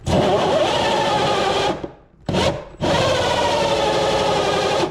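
A cordless drill bores through a building wall, a loud sustained whine that stops briefly midway, restarts for a short burst, cuts out again, then runs steadily to the end with no talking.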